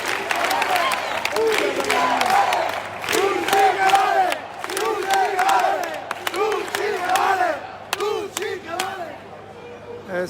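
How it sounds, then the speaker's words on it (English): Spectators at a men's pétanque world championship final in Santa Susanna cheer loudly and continuously, with shouts, whoops and scattered clapping rising and falling in a dense, close crowd roar. "The crowd and spectators are really cheering up, cheering for their teams"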